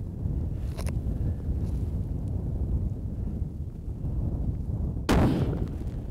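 A single sharp rifle shot rings out during a caribou hunt in open, windy country. The crack is loud and close, standing out against steady wind rumble with no talk.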